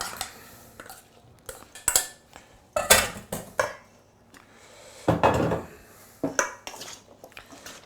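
Potatoes are stirred in a large dish, with close, irregular clinks and scrapes of a utensil against the dish and soft knocks between them, and no talk.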